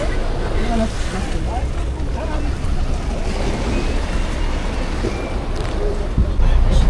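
Boat under way on open water in a Philippine bangka setting, with a constant rushing wash of water and waves plus buffeting wind noise on the microphone, loud and close throughout, with faint voices mixed in.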